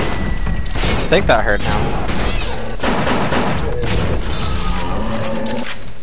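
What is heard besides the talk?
shotgun firing in video game Bioshock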